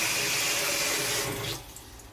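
Hot water runs into a sink or container to thaw a sealed, bagged frozen rat, a loud close splashing gush that continues steadily and then tapers off at the end.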